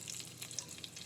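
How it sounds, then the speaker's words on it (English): Bacon frying in a pan, a continuous quiet crackling sizzle with small pops, heard close and with no talk. "Oops, I dropped the bacon in there."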